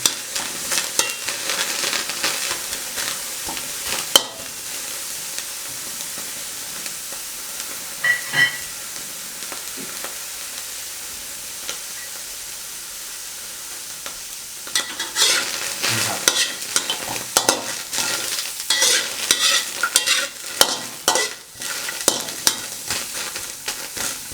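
Chilies dry-roasting in a pan with a small splash of water, stirred in bursts of scraping and rustling over a faint steamy sizzle, with a quieter stretch midway before brisk stirring resumes.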